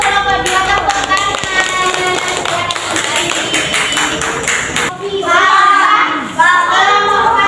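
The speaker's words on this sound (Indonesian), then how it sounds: "kelompok 2 tepuk tangan" Children clap together in a classroom for a group that has just presented, a dense run of hand claps with higher tones running through it. The sound is close and loud and keeps going steadily to the end.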